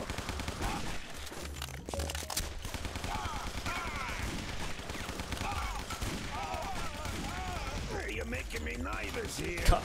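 Machine gun fire rattles continuously in Guns, Gore & Cannoli, loud sustained bursts of gunfire throughout with a sharp hit near the end, while a player talks over the action.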